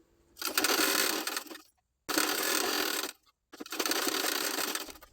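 A sewing machine stitches the lining onto a blouse sleeve in three close bursts of rapid whirring stitches, each lasting a second or so, with short silent pauses between them.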